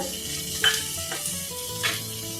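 Finely chopped tomato and onion fry in a pan, giving a steady soft sizzle broken by a few light scrapes of stirring.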